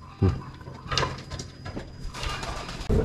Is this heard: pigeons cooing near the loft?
yes